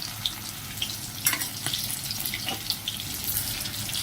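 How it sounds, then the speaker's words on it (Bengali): Chicken fries in hot oil in a wok with a steady, close hissing sizzle and occasional sharper pops and spatters, with no one talking. "তেলের মধ্যে ভালো করে এগুলো ভেজে নিব"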